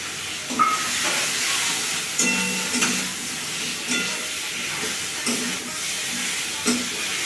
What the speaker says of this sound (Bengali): ভাজা আলুগুলো দিয়ে দিচ্ছি